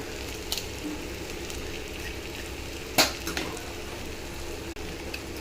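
Eggs cracked over torn parotta for kothu parotta sizzle steadily in a hot pan, with one sharp clatter of a utensil partway through and no talking.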